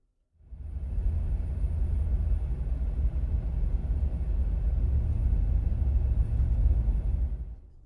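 A 2008 Mercedes-Benz G55 AMG with a 5.5-litre supercharged V8 drives through the mountains of Kazakhstan, its engine a deep, steady rumbling drone that fades in quickly and holds loud and even throughout.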